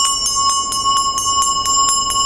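Small handheld ritual bell rung gently during a Dakini dance, producing a fast, even series of bright ringing strikes that blend into a sustained shimmering tone, close and loud with no talking.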